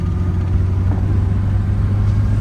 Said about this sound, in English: A little downshift there into second.